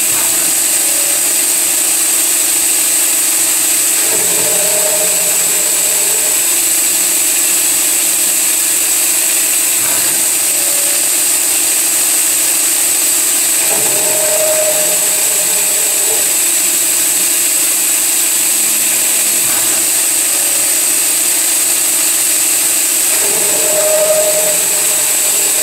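CNC mill-turn lathe machining an inner bearing adapter at 800 RPM, a steady high-pitched cutting whine and motor hum throughout, with faint periodic tonal shifts as the tool passes, no talk.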